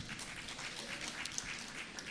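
Graduates and families at an Ort Ma'ale Tiberias high school graduation ceremony applaud teachers and staff, a faint, even patter of many hands clapping continuously from a distance.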